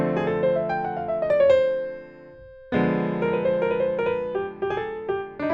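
A piano phrase from the intro of a song played at a moderate pace, melodic line over held chords, with a short gap before the music resumes.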